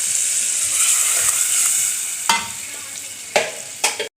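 Eggplant fries in oil with a dense, close sizzle that eases off halfway, then three sharp stirring knocks and scrapes land near the end.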